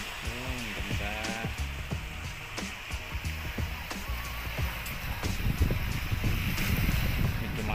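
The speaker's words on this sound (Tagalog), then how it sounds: "Medyo mahangin pa. Mahangin konti." Steady wind blows across the microphone at a beach resort in La Union, Philippines, with a breathy rush, joined by scattered clicks and knocks nearby and a brief high whistle.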